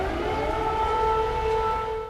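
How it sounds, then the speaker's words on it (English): A loud, steady wailing air raid siren holds a sustained tone for the whole stretch, slowly bending in pitch, with no voices over it. "The sirens are blaring once again."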